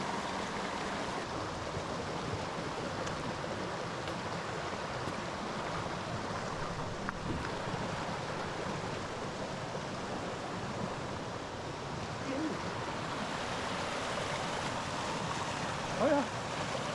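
Steady broadband rush of a creek flowing through a rock garden in the Smoky Mountains in autumn, a constant close wash of moving water with no talk over it.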